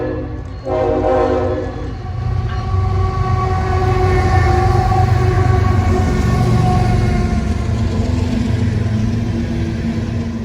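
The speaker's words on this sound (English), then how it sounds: "E040 is an empty coal train running out of the Stanton Energy Center in Orlando, bound for Evansville, Indiana." CSX empty coal train from the Stanton Energy Center rolling past outdoors on a winter morning, a loud continuous rumble of locomotive and rail cars with a sustained horn-like tone near the start.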